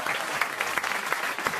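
Applause fills a radio comedy panel studio as one man claps for himself after a pun: a steady patter of hand claps, fairly close and moderately loud, running through the whole moment without speech.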